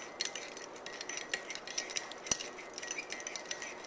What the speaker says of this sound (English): you're going to drop it in there, and you're going to stir until it is all melted